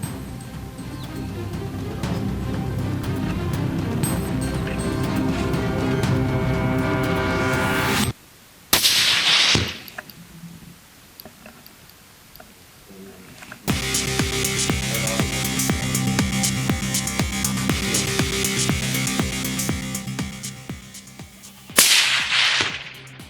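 Tikka .308 rifle shots fired at warthogs outdoors: loud sharp cracks, each with an abrupt report and decaying echo, separated by long pauses and set against a background of continuous bright music.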